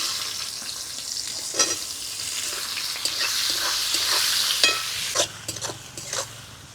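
Chopped onions frying in hot oil with whole garam masala, dried red chillies and bay leaf for a mutton curry, a steady close sizzle with scattered spatula scrapes and clinks, no talking.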